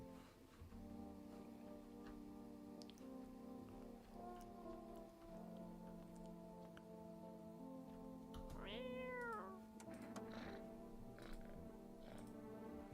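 A cat meows in the video game No, I'm Not Human, a short rising-and-falling call near the middle, set against a soft patter of rain and a sustained droning musical background.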